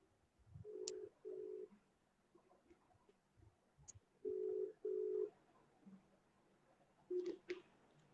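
Outgoing phone call ringback tone: paired electronic ring bursts repeat three times with long quiet gaps between, soft and thin, with faint room noise in the pauses.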